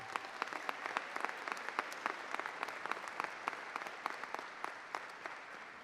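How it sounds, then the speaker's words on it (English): Steady applause from a crowd at a college graduation commencement ceremony, dense clapping that holds at an even level throughout. "Let's give all these supporters a round of applause."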